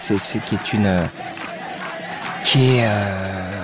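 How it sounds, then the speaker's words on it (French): A crowd at a darshan gathering shouts a mantra in joy, bursts of loud massed voices rising and falling, with some speech mixed in. "on a d'un coup quelque chose qui est une foule en train de crier"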